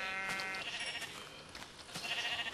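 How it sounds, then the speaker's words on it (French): Sheep bleating in the video game Minecraft, a few short repeated bleats at moderate volume, alone without talk. "Je vais me faire des moutons."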